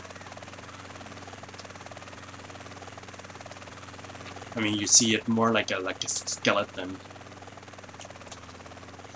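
A helicopter in GTA San Andreas, a cheap-looking model, gives a steady low rotor drone through the whole clip while someone talks over it partway through.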